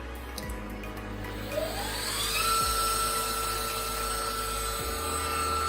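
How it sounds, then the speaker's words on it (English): Spindle of a cheap Chinese CNC machine spinning up and running at about 2000 RPM, a steady whine rising in pitch then holding, fairly quiet against faint background hum. "Let's do turn the spindle on."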